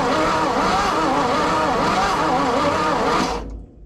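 An old, rusty wood chipper engine runs at a loud, steady, rough clatter for about three seconds, then cuts off abruptly, leaving near silence.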